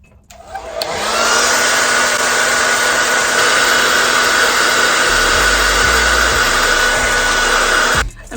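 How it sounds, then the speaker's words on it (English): A Conair 875 blow dryer on its cool setting switches on after a second and runs as a loud, steady whooshing drone close by, with no talking, then cuts off just before the end. "I'm using this Conair 875 blow dryer Target. It's on cool settings."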